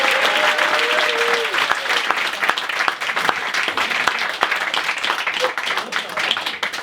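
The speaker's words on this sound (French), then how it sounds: "Applaudissez celle-ci." A theatre audience at a stand-up comedy show applauds a performer, loud sustained clapping with sharp individual claps standing out, a brief voice heard near the start.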